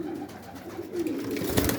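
Pigeons coo in a loft, low soft throaty calls repeating over a brief stretch, close and moderately loud, with light rustling and a scrape near the end.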